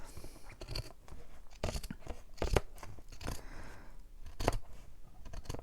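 Scissors snip through material at its edge while a book spine is being expanded, a series of close, crisp crunching cuts in irregular bursts over a quiet background.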